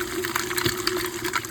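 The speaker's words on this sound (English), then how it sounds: "So here is the water, the ice water, rinsing the butter." Ice water gushes and splashes steadily over freshly churned homemade butter made from raw Jersey cow milk, a close, continuous rinsing rush with small bursts of splashing.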